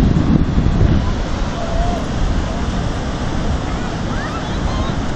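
Ocean waves rolling and breaking along a shore, a steady broadband wash of surf with wind noise on the microphone, continuous and fairly loud throughout with no distinct individual crashes.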